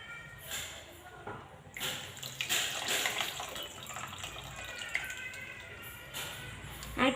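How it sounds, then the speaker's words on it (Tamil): Dissolved tamarind water poured into a simmering eggplant and potato tamarind curry, a steady close splashing and trickling of liquid that lasts the whole stretch. "இப்போ நம்ம கரைச்சி வச்சுருக்க புளியை வந்து நம்ம ஆட் பண்ணிக்கலாம்."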